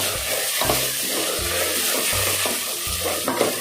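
Coriander and mint leaves sauté in a pan while cooking chicken dum biryani, a loud continuous sizzle broken by a slow, regular scraping of a spoon stirring every half second or so.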